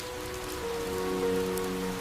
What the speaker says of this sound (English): Raindrops begin to fall over Zambia's Leoa.